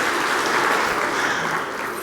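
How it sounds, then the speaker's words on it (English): Gala dinner audience clapping at an awards event, a sustained dense burst of applause from a large crowd that holds steady and tapers slightly at the end. "Yes, give me a clap"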